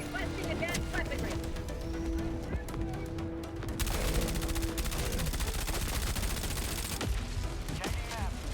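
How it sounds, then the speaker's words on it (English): SMG gunfire from a Halo-inspired Helldivers game rattles in rapid automatic bursts against a battle backdrop, fairly muted, intensifying midway into dense sustained fire, with talking over it. "it's a little bit more quiet than I remember the SMG sounding in Halo"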